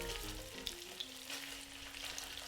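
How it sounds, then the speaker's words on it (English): Pork belly cubes fry in their own rendered fat in a heated non-stick pot over medium heat, a steady close hiss with soft crackles and a few light utensil taps. "Fry them thoroughly at medium heat."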